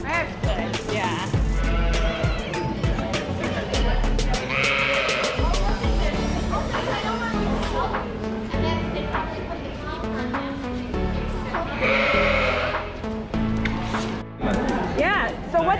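Tunis sheep bleat loudly at close range at a county fair, with several drawn-out calls rising over people talking nearby.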